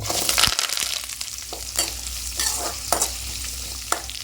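Chana dal and urad dal hit hot oil already popping with mustard seeds, a close crackling sizzle broken by several sharp spatula scrapes and taps, no talking.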